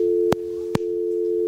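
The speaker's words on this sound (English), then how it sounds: "All right, now it's dial tone." A steady, unbroken dial tone hums on a phone line, loud and close, interrupted by two sharp clicks as the line is handled.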